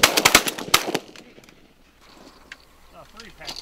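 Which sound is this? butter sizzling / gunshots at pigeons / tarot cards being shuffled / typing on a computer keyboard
gunshots at pigeons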